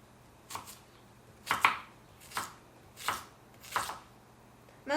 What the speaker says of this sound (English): Now we're going to go ahead and cut the potato.